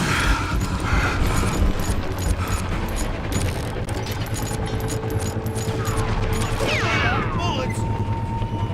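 Gunfire from the video game Call of Juarez Gunslinger crackles in dense, continuous bursts under the game's background noise, with a whooshing effect near the end.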